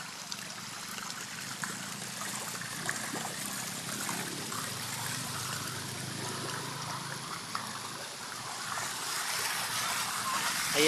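Floodwater rushes in from its source during heavy rain, a steady, dense hiss of flowing and trickling water that holds constant and builds slightly toward the end.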